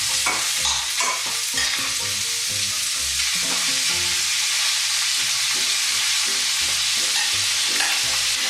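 Beyond Meat vegan sausage sautés in a pan with peppers and onions, a steady sizzle and fry broken by repeated scrapes and clacks of stirring.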